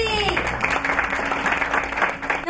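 A live audience at a cooking exchange event claps to welcome a chef onto the stage, a dense, steady round of applause with music fading out at the start and no talking over it.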